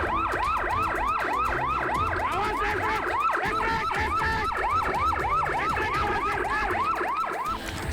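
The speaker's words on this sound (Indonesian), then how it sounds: "Sepuluh mobil pemadam kebakaran dikerahkan ke lokasi." Fire engine sirens wail at a house and food-stall fire on Jalan Gubeng Airlangga in Surabaya, a fast repeating whoop that cycles steadily for eight seconds, loud and close over street noise, with several sirens overlapping.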